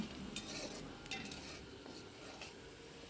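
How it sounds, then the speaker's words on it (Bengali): Rice mixture with turmeric powder being stirred in a pan, with faint scraping and light sizzling and a few soft utensil clicks, quiet and without voices. "এক চামচ হলুদের গুঁড়া আবার ভালো করে নেড়ে ছেড়ে"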